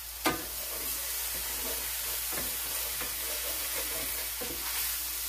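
Mushrooms sizzle steadily in olive oil in a hot pan, with a constant frying hiss and occasional scraping stirs and soft clacks.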